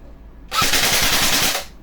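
EC 702 airsoft rifle firing on full auto, one loud, close burst of rapid shots lasting about a second after a brief quiet lead-in.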